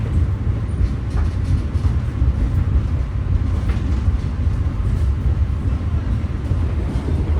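Inside the Argo Dwipangga luxury train travelling from Jakarta to Solo, a steady, loud low rumble of the carriage rolls on with no break and no one speaking.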